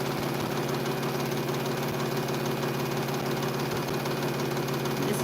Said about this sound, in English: I am only sewing on diagonal lines.